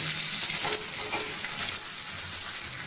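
Potatoes, onions and chopped bitter gourd fry in a pan, giving a steady bright sizzle with faint scraping and stirring, close and alone.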